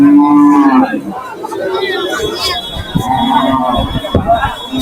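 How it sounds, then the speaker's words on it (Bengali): Cattle moo loudly and repeatedly nearby at a cattle market in Jamalpur, Bangladesh, long low calls over a busy background of crowd chatter. "ইহাতে অনেক গরু রয়েছে ছোট বড় এবং মাঝারি ধরনের সব ধরনের গরু কিন্তু রয়েছে"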